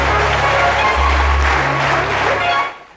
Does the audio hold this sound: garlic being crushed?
no